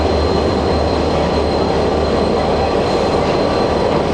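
A locomotive pulls in at platform number 1 of a railway station in Nawab Shah to haul the 149 Up Mehran Express, a steady, loud rumble of engine and rolling wheels filling the station throughout.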